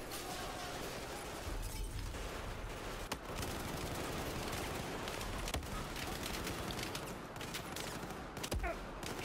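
Sustained gunfire in Battlefield 4 during a firefight from a balcony, a dense, steady roar of overlapping shots with a few sharper cracks standing out.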